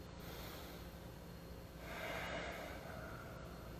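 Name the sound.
breathing in and out through the nose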